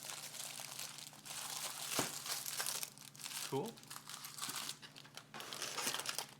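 Canon Selphy CP1500 photo paper packaging being unwrapped, with steady plastic crinkling and a few sharper tearing crackles running throughout, close to the mic, while a voice speaks briefly.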